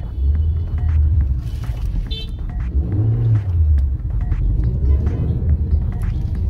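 Fifth-generation Honda City sedan with a VTEC engine heard from inside while driving, a steady low road and engine rumble that swells and eases gently as it moves along, with no talk.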